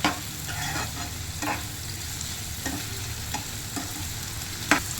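Half a tomato frying in a pan for bisi bele bath, stirred now and then, with a low steady sizzle and several short scraping stirs close by, no talking.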